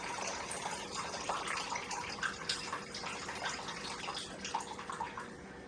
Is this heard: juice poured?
yes